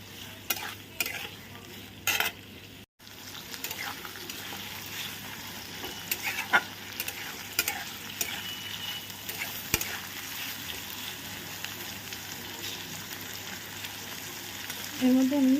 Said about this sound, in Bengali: পেঁয়াজ কুচি দিয়ে দিয়েছি, এবারে এটাকে ভাজতে থাকবে